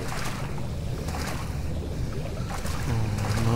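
In Amnesia: Justine, a horror video game, water laps and churns in a steady, wave-like wash with a faint windy hiss. It holds level throughout and swells slightly toward the end, with no talking.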